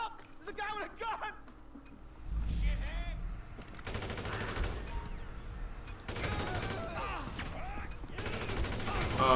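Gunfire in the video game GTA 5: bursts of shots in several clusters, mixed with excited voices talking and shouting over the game action.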